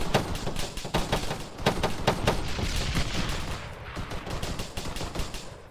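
Rapid, loud bursts of rifle and machine-gun fire in ARMA 3 during a squad infantry firefight, a dense rattle of overlapping close shots that runs nearly without pause and thins out toward the end.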